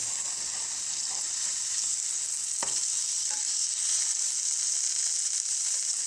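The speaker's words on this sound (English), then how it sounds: "I put a little olive oil, just very little, to fry the sausage" Beef sausage fries in a little olive oil with a constant, even sizzle and hiss, close and steady, broken only by a couple of faint clicks of utensils.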